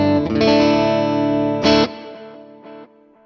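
Electric guitar through the Vox amp model of the Neural DSP Morgan Amp Suite plugin: loud, driven, chimey chords ring out, then a sharp strum and a softer decaying chord with effects-laden sustain, no talking.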